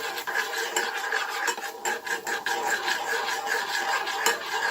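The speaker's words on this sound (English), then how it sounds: "And I'm going to give this a nice big stir." Garlic and chives stirred in a pan over medium heat, giving a continuous raspy scraping and sizzle with quick rhythmic strokes, close and steady, no talking.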